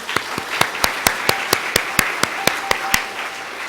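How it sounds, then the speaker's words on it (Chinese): A church congregation at a Christmas worship service gives a slow, rhythmic round of applause, about fourteen evenly spaced sharp claps over a soft background murmur. "我们再一次用热烈的掌声感谢上帝"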